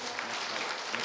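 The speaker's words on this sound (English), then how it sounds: "And let's give them a round of applause." An audience in a school hall claps for a team of students standing at their seats during a Commerce Day presentation, a brief, steady patter of hands at moderate loudness.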